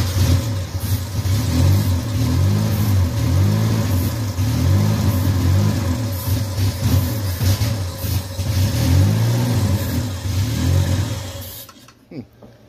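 An old MG Midget sports car engine, unused for five or six years, starts and revs unevenly in steady mid-range bursts for most of the stretch, then cuts out near the end.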